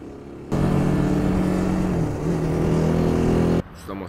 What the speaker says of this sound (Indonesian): Ini moge-moge kayak Kawasaki 1400cc. Mereka kencang konvoi terus ya.